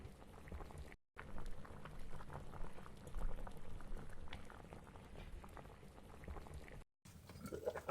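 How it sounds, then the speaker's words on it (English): Water at a hard rolling boil for cooking coconut dough in Ben Tre: dense, steady bubbling that stays loud and close, broken by two brief silent gaps. "They have to make sure the water is really boiling so that the dough cooks and floats."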